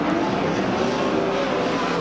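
Super sedan race cars, including a low-chassis car with a Holden Monaro body, roar loudly through the first turns of a speedway at a fireball derby, a dense continuous engine drone.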